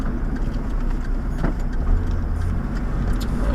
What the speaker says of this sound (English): whenever I turn right, the front left wheel bearing rumbles